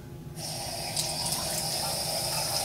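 Tap water suddenly runs and splashes steadily into a shaving soap bowl holding Mitchell's Wolf Fat, a close, continuous gush lasting a couple of seconds with no talking.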